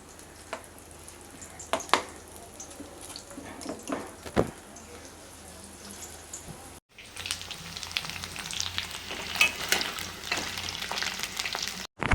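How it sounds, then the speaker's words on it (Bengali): Paneer pieces fry in oil in a kadai with a soft, crackling sizzle and scattered pops, quiet and close, broken by a short cut partway through before the sizzle resumes more busily. "এইভাবেই করে সমস্ত পনিরগুলো ভেজে নেব।"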